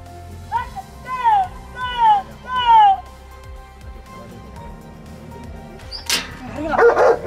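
Hunting dogs bark and bay at the close of a Spanish boar hunt in the countryside, three clear bursts early on, then quieter yelps and outdoor noise with talk nearby.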